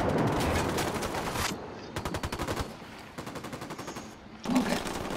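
Gunfire in the video game Ghost Recon Wildlands: rapid automatic bursts in short rattling volleys separated by brief pauses, with a louder blast near the end, all fairly close and under no talk.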